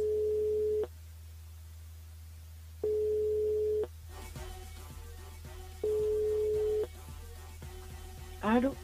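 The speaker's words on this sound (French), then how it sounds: "On appelle Aïda Miss." A telephone line signal while calling a radio listener: a steady tone sounds in three one-second pulses spaced about three seconds apart, with faint background noise between them and a brief voice at the end.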